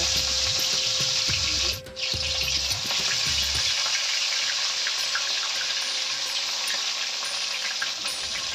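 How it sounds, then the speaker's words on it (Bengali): Snakehead fish heads fry in hot mustard oil with a loud, steady, close-up sizzle. A few soft knocks and stirring sounds come early, then the crackling hiss carries on alone. "তেল যখন ভালো মতো গরম হয়ে যাবে তখন মাছের মাথাগুলোকে এক এক করে দিয়ে ভেজে"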